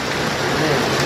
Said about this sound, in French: Mais ça fait du bien de la pluie, alléluia.